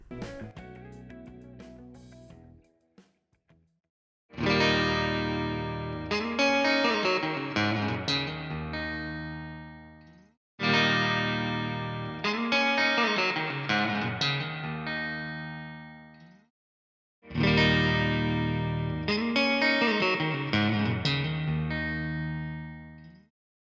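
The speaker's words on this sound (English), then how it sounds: "It's just the guitar straight into those amplifiers, mic with a 57." Distorted chords from a Stratocaster electric guitar played straight into amplifiers and miked with a 57 ring out loud and full in three separate phrases with short pauses between, preceded by a quieter, cleaner tone.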